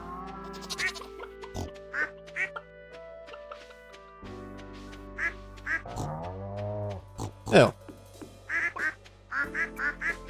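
Cartoonish ducks quack in Stardew Valley, a string of short, bright quacks in irregular bursts over soft game music and ambient effects, with one brief spoken word near the start.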